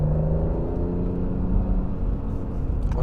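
Engine of a car on a track as it rounds a corner, a loud, steady, close rumble with a smooth, layered hum that holds without breaks.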